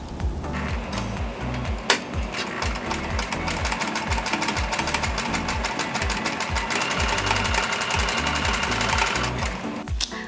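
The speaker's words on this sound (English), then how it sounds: "so I tried a zigzag stitch" A sewing machine runs a zigzag stitch through stretchy fabric, its needle chattering in a fast, steady mechanical rhythm. The sound is close and continuous for the whole stretch, with no talking.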